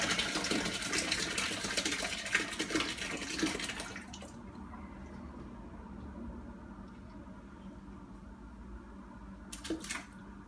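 Hefeweizen decoction being poured back into the mash during all-grain homebrewing, a loud broad gush of liquid for about four seconds that then stops, leaving quiet room tone with a few faint knocks near the end.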